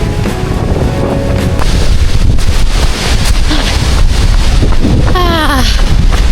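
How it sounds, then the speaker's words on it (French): Strong gust of wind roaring across a microphone on a mountain hike up La Rhune, loud and continuous broadband buffeting throughout, with a brief voice near the end. "Grosse rafale."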